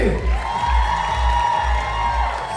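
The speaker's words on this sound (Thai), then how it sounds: "ขอเสียงปรบมือกับทั้งสามท่านบนเวที" A crowd cheers and whoops with scattered clapping at the Thailand Top Vote award ceremony in Pratunam, a loud, steady roar filling the full stretch without pause.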